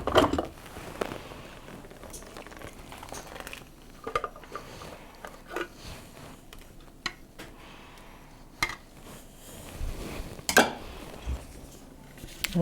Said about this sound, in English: now I'm just going to dump in the wet ingredients